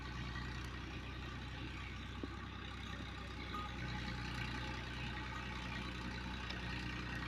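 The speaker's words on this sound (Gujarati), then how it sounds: "આપણો ટ્રેક્ટર આવી ગયું" A tractor engine runs at a constant low, rumbling idle throughout, steady and fairly quiet, with no voices over it.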